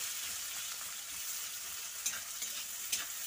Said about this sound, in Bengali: তো এখানে পেঁয়াজ, রসুন, কাঁচা লঙ্কাটা প্রথমে একটু ভেজে নেব